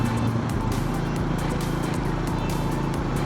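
Busy road traffic in Bhubaneswar heard from a motorcycle, a dense continuous rumble of engines with a nearby motor droning steadily and loudly throughout and wind noise over the top.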